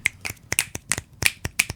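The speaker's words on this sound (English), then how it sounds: "snap your fingers after" Finger snapping: about eight sharp, close snaps in a quick, slightly uneven rhythm, each crisp and bright with nothing else around them.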